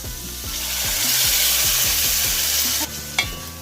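Masala frying in a pan while being stirred, with a steady close sizzle, repeated scraping strokes of a utensil against the pan, and a couple of sharp knocks near the end.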